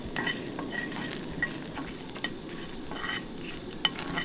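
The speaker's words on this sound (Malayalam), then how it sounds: "2-3 ഉള്ളി, എരിവിന് ആവശ്യമായ മുളക്, ഒന്ന് വഴറ്റിയെടുക്കാം എണ്ണയിൽ" Onions and chillies sautéing in oil for a chammanthi, a steady close sizzle with soft stirring scrapes and a few light clinks running throughout.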